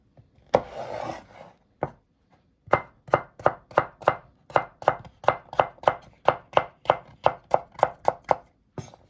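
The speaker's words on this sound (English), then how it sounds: "take the cucumber and take all the middle part of this cucumber and cut it to half" A knife chops through cucumber on a cutting board in a quick, steady run of sharp knocks, close and clear, after a few slower opening cuts.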